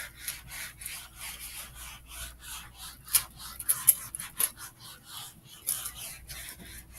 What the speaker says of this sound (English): Let me erase this one.